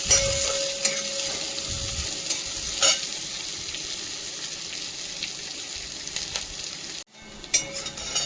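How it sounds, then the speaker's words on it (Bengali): Onions frying in a pan for a vegetable kofta curry, a steady close sizzle with occasional stirring scrapes and clinks, no talk, briefly dropping out near the end before the frying noise resumes. "পেঁয়াজটা একটু ভেজে নিই।"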